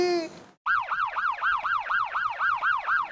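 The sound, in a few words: police siren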